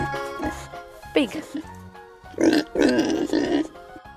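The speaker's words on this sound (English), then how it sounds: "Pig." A toy pig gives a couple of short, gruff grunting snorts, close and fairly loud, with brief speech-like bursts between them.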